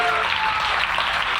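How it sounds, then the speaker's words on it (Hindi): Church audience at a sermon on forgiveness breaking into loud applause for Jesus: a thick, steady roar of many hands clapping together, brief and without a pause. "आई यीशु के लिए जोरदार तालियां।"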